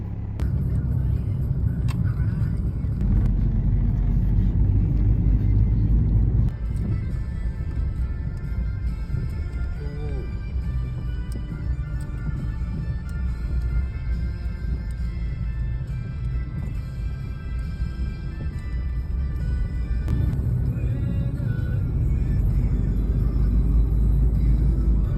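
A car drives along the road in windy, stormy weather, a steady low engine and tyre rumble continuing throughout with occasional shifts in intensity, and faint talk now and then beneath it.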